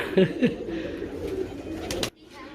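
A freshly caught golden teddy pigeon coos a few times up close, soft throaty calls mixed with rustling, while people talk nearby.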